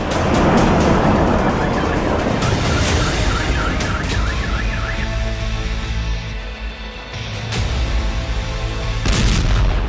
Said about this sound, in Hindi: बेलबेक एयरबेस के नजदीक जोरदार धमाका हुआ